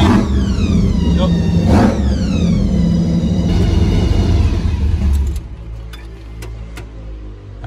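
A car engine with newly installed EFI rumbles and revs during a test drive, loud and close, with whining gear-like sweeps that rise and fall. People talk over it, then the engine settles to a lower idle with a few ticks.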